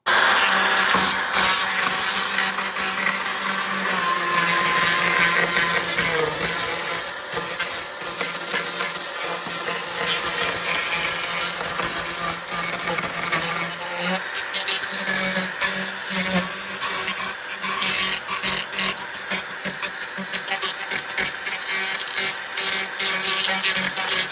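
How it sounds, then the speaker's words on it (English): An electric chainsaw runs continuously, whining and grinding as it cuts through soft, rotten wood on a boat transom, with a steady, harsh buzz and slight variations in load. "An electric chainsaw was used to remove all the rotten wood"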